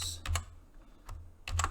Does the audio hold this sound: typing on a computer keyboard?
yes